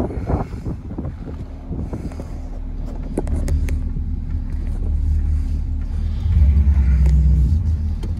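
A 1977 Ford Mustang II, off the road since 1989, runs with a steady low engine rumble that swells louder toward the end, with no voices over it.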